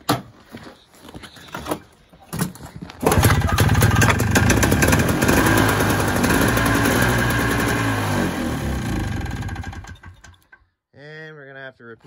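A snowmobile engine being fired up: a few short cranking bursts, then the engine catches and runs loud and steady for several seconds before dying away, followed by brief voices.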